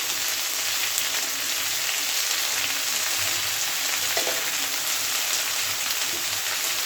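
Thin strips of eggplant fry in hot oil in a pan, giving a steady, close crackling sizzle with occasional soft scraping of stirring mixed in.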